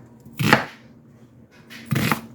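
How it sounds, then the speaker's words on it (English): Two firm knife chops through onion on a cutting board, spaced about a second and a half apart, close and crisp with no talking. "onions are bad about not chopping fully"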